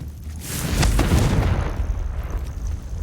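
A Confringo spell goes off in Hogwarts Legacy as a loud, booming blast with a deep low rumble, followed by a crackling, decaying tail, with no talk over it.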